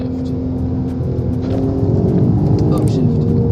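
Engine note of a VW R32 with a DSG gearbox and Magnaflow exhaust rises sharply on a quick downshift, a continuous close rumble with a brief rev flare, heard from inside the car while someone talks.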